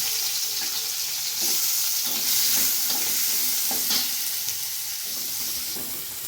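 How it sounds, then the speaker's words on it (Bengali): Chopped onion sizzles and fries in a pan for okra and fish sour curry, with a spoon stirring and scraping through it in bursts over a steady hiss. "দেখো এবার দিয়ে দেবো পেঁয়াজ কুচি"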